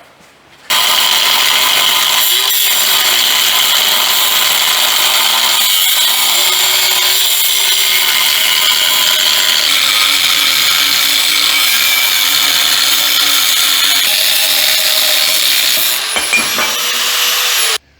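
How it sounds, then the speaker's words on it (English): Power tool cutting through a tube, a loud continuous high-pitched grinding screech that holds for about seventeen seconds with slight wavering, close to the microphone and with no talking. "Let's cut this tube off, man!"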